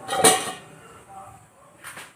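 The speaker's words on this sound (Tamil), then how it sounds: "இதை நம்ம மூடி போட்டு மூடி வச்சுருவோம்" A metallic clink as a lid is set on a pot of boiling Kerala-style fish curry, followed by a softer clatter near the end, with faint background noise around it.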